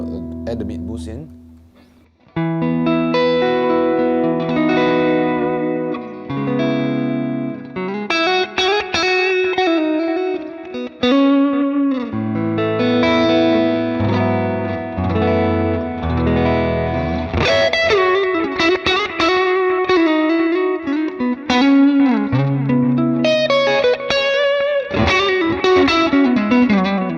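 Electric guitar through a Valeton GP5 with boost added, driven chords and melodic lines played continuously with a slightly gritty, sustained tone and ambient trails, loud and close after a short quiet start.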